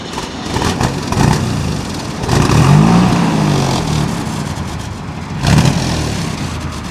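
A 1954 Chevrolet Corvette engine starts, rumbles and revs in a few rising surges, fairly loud and close, with no talking.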